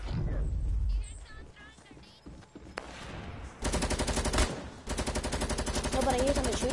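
Gunfire in the Fortnite video game: after a stretch of mixed game sounds and clatter, rapid automatic bursts break out and continue almost without pause, loud and evenly rhythmic.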